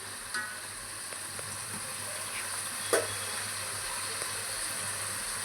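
Tomatoes roasting in a pan for pulav give a continuous close sizzle and hiss, with a few light taps of a stirring spoon against the pan.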